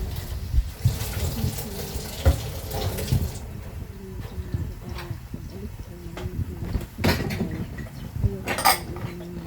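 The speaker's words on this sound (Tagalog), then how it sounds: "Ako habang naliligo." Water splashes and runs during a bath at home, an uneven close wash of pouring and splashing with a few knocks and clatters scattered throughout.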